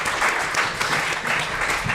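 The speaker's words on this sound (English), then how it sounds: "If you could just give them another round of applause" A conference audience gives a round of applause to a panel of speakers, a thick, sustained roar of many hands clapping in a hall, steady and fairly loud from start to finish.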